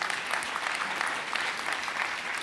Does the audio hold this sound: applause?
yes